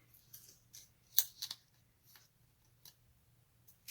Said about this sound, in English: Make sure all these are cut nicely.